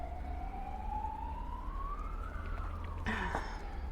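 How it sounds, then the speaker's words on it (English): A single siren tone sweeping slowly upward, heard at moderate distance over a steady low rumble of traffic, with a brief burst of other noise near the end. "My friend's siren might be a bit loud."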